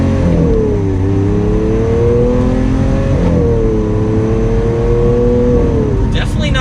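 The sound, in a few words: Lamborghini Aventador LP700-4 accelerating in Strada mode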